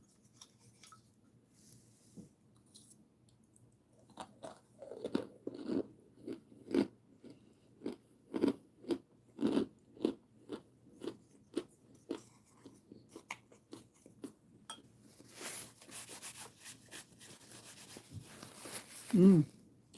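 Crunchy food bitten and chewed close to the mic, a long run of sharp, regular crunches with faint soft sounds between them and a louder bite near the end.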